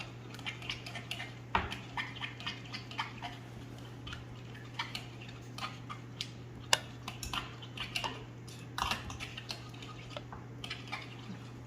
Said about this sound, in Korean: 뭉쳐있던 고추장과 된장을 잘 풀어주시고요